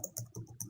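Rapid keystrokes on a computer keyboard, typed quickly in short clustered bursts of clicks, close and fairly quiet with no talking.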